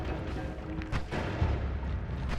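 A deep booming blast in the game Noita, then rumbling detonations tumbling over a couple of seconds, loud and close with no talking.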